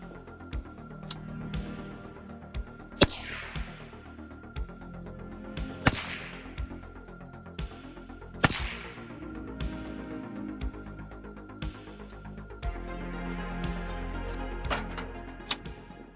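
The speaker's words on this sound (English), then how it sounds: "I went ahead and put the suppressor and still ran the 300 supersonic through to see how loud that would be" A suppressed 300 Blackout AR-15 fires 300 supersonic ammunition in sharp, loud cracks, about eight shots spaced a second or two apart, each followed by a brief echo outdoors.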